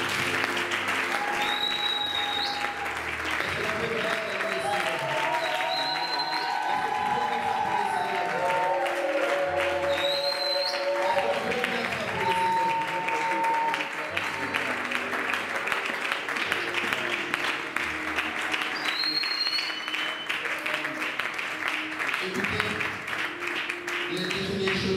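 A church congregation at a seminary night service applauds and cheers without pause, broad clapping under raised voices and shouts of praise, with sustained tones from music running beneath.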